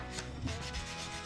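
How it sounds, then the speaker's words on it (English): Short, quick strokes of a flexible sanding tool rubbing against a small hard model car part, close by, with a soft scratchy rhythm. "I find if you have a nice flexible sanding implement like this, it works good"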